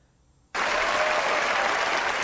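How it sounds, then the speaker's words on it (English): A round of applause bursts in abruptly after near-silence and holds as a steady, dense wash of clapping from a crowd. "can someone give me a round of applause already?"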